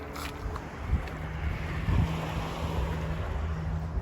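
The River Suir flowing near Waterford, a steady broadband wash of water mixed with gusting wind noise on the microphone, constant and fairly close, with no talking.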